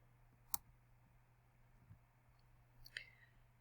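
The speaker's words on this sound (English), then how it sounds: "And we're going to click OK." A computer mouse clicks on an OK button: one sharp, close click, then a second softer click a few seconds later, in an otherwise quiet room.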